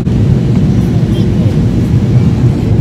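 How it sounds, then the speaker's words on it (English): Airplane cabin noise in flight, a loud, constant low roar filling the clip with no breaks, close and enveloping. "So we're in the air now, it's super loud."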